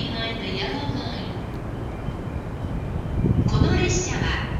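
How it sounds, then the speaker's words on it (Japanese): An E231 series local Tokaido Line train bound for Atami arrives at Kawasaki station, with a steady low rumble that swells near the end as it pulls in, under a loud platform announcement. "The local train bound for 熱海 will soon arrive on track number 1."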